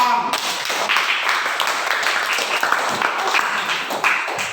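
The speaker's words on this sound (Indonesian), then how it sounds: "Bagus, tepuk tangan." A classroom of students claps hands together in a busy, brisk burst of applause close by, sustained and fairly loud for a few seconds with a few faint voices mixed in.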